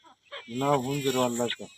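A chicken on a village farm gives one drawn-out, throaty vocal call, close by and fairly loud, preceded by a couple of short clucks.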